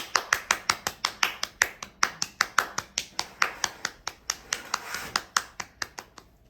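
An audience claps through a rhythmic, evenly spaced series of sharp claps, fairly close and moderately loud, with no voices over it.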